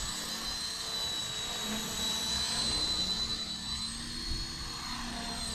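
A small ready-to-fly RC helicopter takes off and flies, its steady high rotor and motor whine holding close and loud throughout with a constant tonal buzz, no one speaking.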